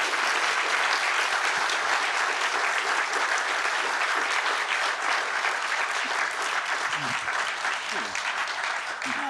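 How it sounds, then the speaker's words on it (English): A gallery audience gives the speakers a long, sustained round of applause after an in-conversation event with Wolfgang Tillmans, dense and even for several seconds, with faint voices surfacing near the end. "Please give our speakers a huge round of applause."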